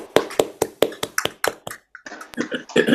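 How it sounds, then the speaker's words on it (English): Online meeting participants clap for David over unmuted microphones: a run of about ten sharp, separate hand claps in loose rhythm, followed by cheering voices mixed with more clapping. "can we all unmute ourselves and clap or woohoo?"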